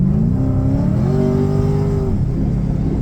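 A 6.0 V8 engine revs hard close by, its harmonic drone climbing in pitch and holding steady before dropping off, loud and continuous for about three seconds with no talking.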